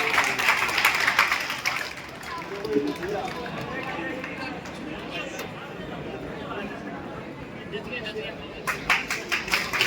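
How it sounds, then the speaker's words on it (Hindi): Loud applause from an audience greeting Pankaj at a July batch farewell (vidai) ceremony on stage, a dense continuous wash of clapping and crowd noise sustained throughout, swelling again at the end. "जोरदार तालियों के साथ।"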